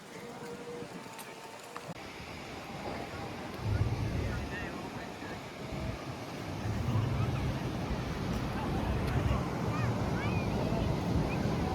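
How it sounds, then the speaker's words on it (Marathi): Strong sea wind gusts across the open grounds of Galle Fort, a loud, rushing roar that buffets the microphone and swells in waves, with faint surf and other low sounds mixed in. "गॉल फोर्टचा हा परिसर आहे आणि वारं जेवढ्या वेगाने येत आहे त्याच्यावरनं स्पष्ट आहे समुद्र लांब नाही आहे"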